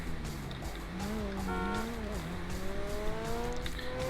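A sports car in GTA 5 speeding along with a continuous engine drone that rises and falls in pitch, with tire noise underneath, loud and close throughout.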